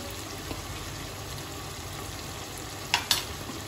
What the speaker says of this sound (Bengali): টক দই দিয়ে আমি এটাকে ভালোভাবে মিশিয়ে নিচ্ছি।